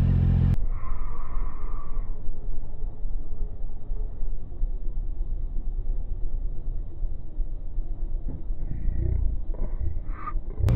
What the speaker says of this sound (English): I'm just driving around Silverstone now